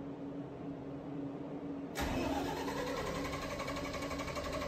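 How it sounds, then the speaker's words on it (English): An emergency generator engine cranking on a start attempt that fails: a steady low machine hum, then a sudden louder broadband mechanical whirring that kicks in midway and continues to the end. "First time of starting fails, engine reset and attempt for second time starting."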